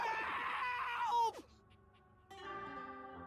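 A sink-headed mimic character in the video game Date Everything lets out a loud, wavering, anguished scream for over a second. It is followed by a quiet pause and then a lower, strained moaning vocal.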